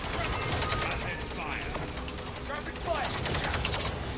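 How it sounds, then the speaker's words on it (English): Rapid bursts of gunfire from the video game Realm of Ruin rattle continuously at a steady, dense rhythm, close and loud, with faint talk mixed in. "that rapid fire is sick"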